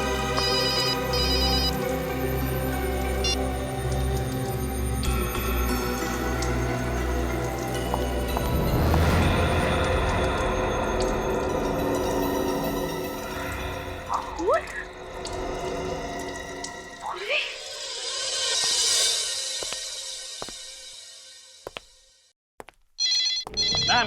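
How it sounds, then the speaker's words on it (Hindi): A telephone rings with repeated tonal bursts over a dense, loud dramatic scene in a horror crime drama, the ringing layered with other noise and fading into sweeping tones and scattered clicks toward the end. "मैंने कहा ना कोई फोन नहीं उठाएगा"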